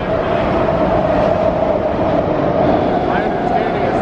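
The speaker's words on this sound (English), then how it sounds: "The BART train coming out of the tunnel." A BART train emerges from a tunnel with a loud, steady rumble and a rolling roar, heard nearby from a passing car, with voices talking over it.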